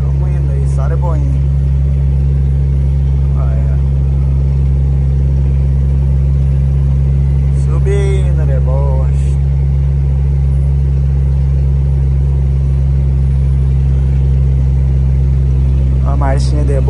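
Heavy truck engine laboring uphill in a low gear, a loud steady drone with a deep hum throughout, while someone talks intermittently over it from inside the cab.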